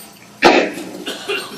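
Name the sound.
coughing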